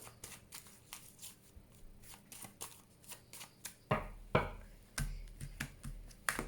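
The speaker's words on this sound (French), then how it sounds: "Je vais faire une coupe avec le tarot que j'utilise pour les consultations prédictives" A tarot deck being cut and shuffled by hand, producing a quick series of crisp card riffles and slaps, close and fairly loud, building to a few heavier flicks near the end, with no one speaking.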